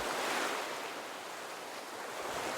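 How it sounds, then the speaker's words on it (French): Ocean waves washing onto a sandy beach, a steady soft hiss of surf held at even loudness throughout, with a faint breath of wind and no voices. "D'entendre le murmure régulier des vagues, un son doux et rythmé qui berce l'esprit"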